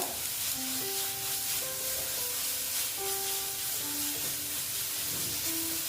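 Pointed gourd frying in a pan with Kashmiri red chilli powder, giving a steady soft sizzle and crackle that holds evenly throughout, close by, with faint tonal hum in the background and no talking.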